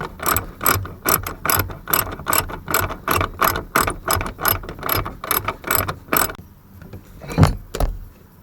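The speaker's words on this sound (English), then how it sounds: "I'm just going to get the seat unbolted" A hand ratchet clicks in rapid, steady bursts while loosening the bolts of a car seat over a rotted floor, loud and close with short pauses between strokes, ending in a couple of heavier knocks.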